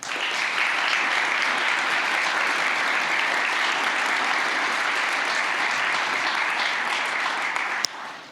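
Sustained applause from an audience at the U.S. Green Building Council West Michigan chapter's 2019 annual party and award ceremony, honoring Dr. Fawcett; steady, dense clapping throughout, ending with a sharp knock just before it fades.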